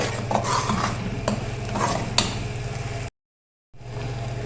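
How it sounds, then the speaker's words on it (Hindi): Masala for pepper chicken is stirred and fried in a pot, a close, scraping, sizzling stir with rhythmic spoon strokes, briefly cutting to silence before the frying resumes. "अब इसकी खूब अच्छे से भुनाई करेंगे यहाँ तक कि ऑयल ऊपर आ जाए।"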